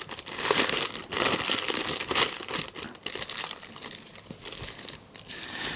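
Plastic wrapping pulled off a Highschool DxD figure, loud close crinkling and crackling in irregular bursts with occasional tearing, continuous with no talk.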